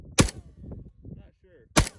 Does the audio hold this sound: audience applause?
no